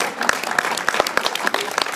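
Audience applause at a fanfare association's celebration in Cruet, a dense, steady wash of many hands clapping that carries evenly through the short stretch with no voices over it.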